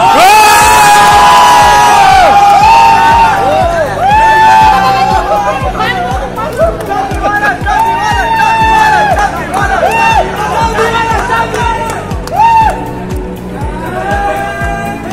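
At an award night for a live cooking challenge, an audience roars with cheering, whoops and shouts over loud music, a dense, energetic crowd din that stays strong throughout with voices calling out.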